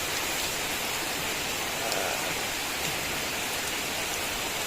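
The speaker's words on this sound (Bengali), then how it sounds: "দেখো কি পরিমাণ বৃষ্টি হচ্ছে গতকাল রাত থেকে এরকম বৃষ্টি হচ্ছে" Steady, dense hiss of heavy rain pouring down without pause since the previous night, loud and enveloping, with no voices.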